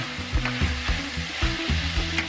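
Cabbage and mushroom lumpia filling with scallions being stirred in a hot pan, a loud close sizzle with rhythmic scraping strokes of a spatula repeating about every half second, no voices.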